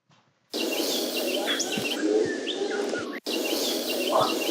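Dense jungle ambience of many chirping birds and insect hiss, steady and moderately loud, with varied calls scattered through it and one brief cutout partway.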